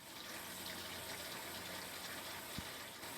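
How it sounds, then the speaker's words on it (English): Water flows steadily into the filtered plumbing system of an off-grid yurt, a quiet continuous hiss and rush with one brief low thump, no talking. "Water coming in."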